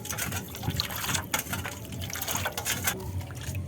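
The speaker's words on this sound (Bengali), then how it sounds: "এবার আমি আইসক্রিমের কৌটোতে ঢেলে নেব।" A homemade water ice cream mixture pours into a container with a steady liquid gush and splash, broken by small irregular splatters and trickles at moderate volume, with no voices.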